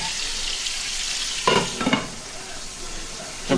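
Steaks sear in a hot frying pan with a continuous crackling sizzle, close and fairly loud, that flares up briefly when the meat is moved.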